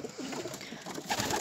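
Pigeons coo softly and steadily at close range in a loft after the moult, the low, rolling calls overlapping with no voices heard.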